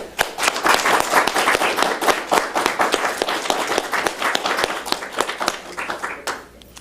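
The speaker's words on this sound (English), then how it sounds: "One more round of applause for the contestants." Audience applause for contestants at a Toastmasters speech and evaluation contest, steady, dense clapping from a room full of people that holds for several seconds and tapers off near the end.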